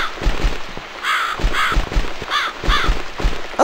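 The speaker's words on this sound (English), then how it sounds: "It's this damn bird again." A crow caws repeatedly in The Cat Lady, a video game, the harsh calls coming close and loud in short bursts over a background hum.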